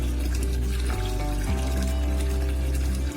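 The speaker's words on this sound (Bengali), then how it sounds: "কলিজাটা একটু বেশি ধুতে হয়" Tap water running and pouring over beef liver in a sink, a loud continuous splashing stream with slight shifts in flow.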